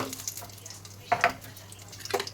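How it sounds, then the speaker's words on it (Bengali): Nigella seeds (kalo jeere) hit hot oil in a wok, giving faint crackling sizzles with a few sharp pops and stirring clinks over a low hum. "কড়াটা গরম হয়ে গেছে, এবার তেল দেবো। কালো জিরে দিয়ে দিচ্ছি"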